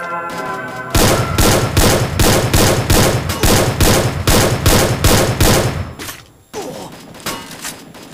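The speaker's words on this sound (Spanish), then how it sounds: "yo le disparé como mil veces y nunca murió" Loud, rapid bursts of automatic gunfire from the Free Fire video game repeat in a steady rhythm for several seconds, then stop briefly before fainter shots and clatter resume.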